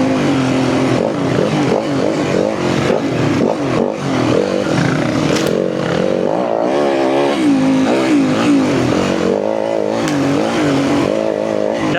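A dirt bike engine revs hard and continuously while being ridden off-road over bumps, the loud motor note rising and falling with throttle changes and staying close and dominant the whole time.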